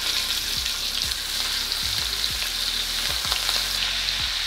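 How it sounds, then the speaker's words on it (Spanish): Meat searing in hot oil in a frying pan over high heat gives a steady, bright sizzle, with soft low thumps from the pan and meat scattered throughout. "Ahora para sellar la carne en un sartén le van a poner aceite."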